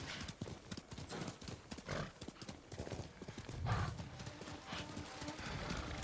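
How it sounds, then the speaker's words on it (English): Horse hooves clip-clopping in the video game Ghost of Tsushima, a faint, irregular stream of clops with an occasional whinny and light talk mixed in. "Stop following me, horse."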